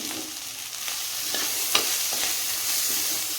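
Chili powder and turmeric sizzling in hot oil in a frying pan while a snake gourd stir-fry is made, a steady close crackling hiss with a few sharper pops and stirring scrapes.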